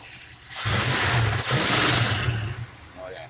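A car engine runs after a carburetor adjustment, a steady rumbling idle that jumps louder with a hissy rush after half a second and holds, fading slightly near the end.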